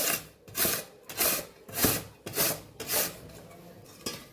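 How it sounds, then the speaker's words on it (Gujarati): A peeled potato grated by hand straight onto shredded cabbage, making rhythmic rasping strokes, about seven close, loud scrapes in steady succession with no talking. "સીધા આપણે કોબીની ઉપર જ બટેકાને ખમણી લેવાનું છે।"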